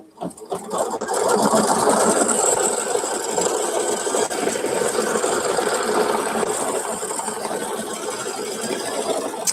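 An embroidery machine stitches a second color in a steady, rapid mechanical chatter that runs continuously after a brief start, close and fairly loud.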